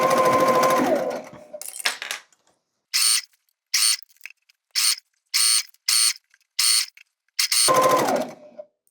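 A sewing machine stitches a pillow seam on a scrapbuster pillow, running in about seven short even bursts with brief pauses between, loud and close, with longer continuous stitching runs at the start and end.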